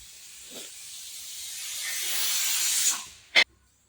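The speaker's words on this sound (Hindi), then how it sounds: "कुकर वाचतोय पण" Steady rising hiss of escaping steam from a pressure cooker cooking chickpeas builds for a few seconds, then a sharp short whistle bursts out before falling silent.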